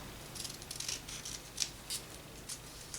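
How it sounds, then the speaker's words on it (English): Scissors cut paper for a junk journal envelope, with a series of crisp close snips spread across a steady background hiss and no voice. "just gonna cut that"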